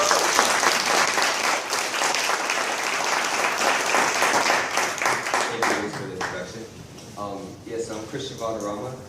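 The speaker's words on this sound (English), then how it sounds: "let's give a round of applause to Christian Valderrama" Audience applause at a 1 Million Cups startup pitch event in Daytona Beach, sustained and fairly loud, with voices rising over the clapping in the last few seconds as it fades.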